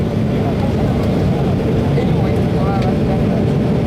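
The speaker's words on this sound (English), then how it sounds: "we're doing our final approach into Warsaw International Airport" A fixed-wing airliner on final approach into Warsaw International Airport gives a steady, loud low cabin engine rumble that persists without a break throughout.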